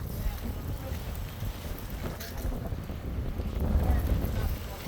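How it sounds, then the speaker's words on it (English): Strong wind gusts roar across the microphone during an ice storm, making a steady, heavy rumble that builds slightly toward the end, with no clear talking. "Woo, it's windy."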